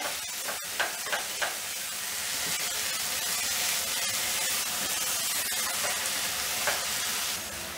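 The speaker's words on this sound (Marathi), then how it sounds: "पनीर मी फास्ट गॅसवरती परतले" Paneer for Mumbai street-style bhurji sautéing in masala on a pan over high flame, a dense continuous sizzle with a few sharp stirring clicks and scrapes early on.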